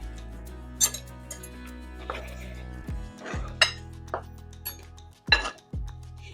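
Chopped tomato is added to a salad bowl with scattered light clinks and taps of utensils against dishes and a few soft thuds, quiet and close, with pauses between.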